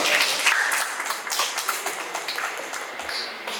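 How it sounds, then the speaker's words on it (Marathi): A crowd applauding steadily throughout at a press conference for a Marathi TV series, a dense wash of clapping at moderate volume with no clear voices. "तर टाळ्या आहे"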